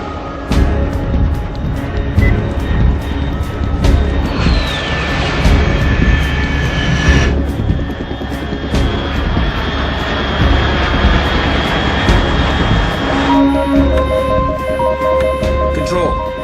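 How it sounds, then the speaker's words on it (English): Jet aircraft roar sweeps overhead in the video game Metal Gear Solid: Snake Eater, loud and sustained over game music and radio tones, with a brief rising whine partway through. "Unidentified aircraft detected."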